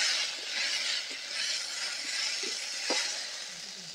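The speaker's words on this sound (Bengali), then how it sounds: "এবার আরও একটু ভালো করে কষে নেব যতক্ষণ না টমেটোগুলো গলে যাচ্ছে।" Tomatoes and spices sauté in a pan for a papaya curry, a steady broad sizzle with a few soft scraping stirs and light clinks, fairly close and alone with no talk.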